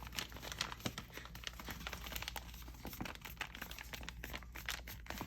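Paper cover folded in half by hand, soft close crinkling and crumpling rustles with quick brushing taps, quiet and continuous with no voice.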